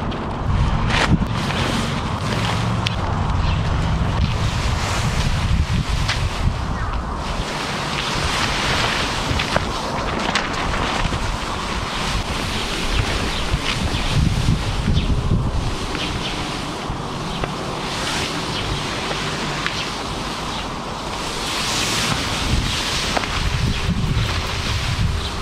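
Strong wind buffets a reserve parachute being aired outdoors on asphalt, a loud continuous roaring gust noise with fluttering and microphone rumble, no voices.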